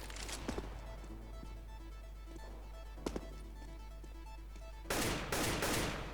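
Gunfire in the video game Counter-Strike: Global Offensive during a deathmatch, a few isolated sharp shots early and midway followed by a loud burst of rapid fire near the end, all at moderate level over faint game ambience.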